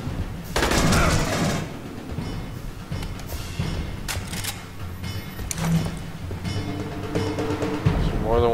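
Turret gunfire in Aliens: Colonial Marines crackles in rapid bursts with thumps and booms, loud and close, mixed with game noise and a few electronic tones.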